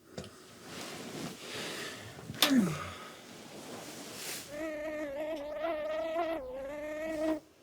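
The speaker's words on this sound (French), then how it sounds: "Il y a un moustique" Indoors at night, a mosquito buzzes in a bedroom in a thin, wavering whine that comes close in the second half. It follows quiet rustling, a sharp gasp and a sigh-like breath.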